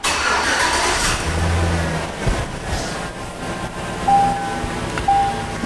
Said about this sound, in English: so let's run the car